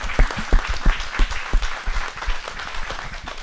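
A crowd gives a round of applause at a service center's anniversary celebration: a burst of loud, dense clapping that thins and fades over a few seconds.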